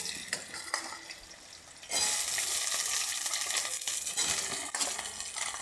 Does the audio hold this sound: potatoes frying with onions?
yes